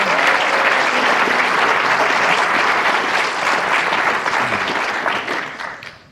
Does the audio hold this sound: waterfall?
no